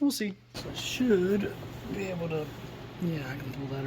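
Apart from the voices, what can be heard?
No everyday noises stand out.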